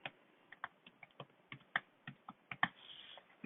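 Typing on a computer keyboard: irregular, quiet, close key clicks arriving in uneven bursts, with a slightly louder press now and then and no voices.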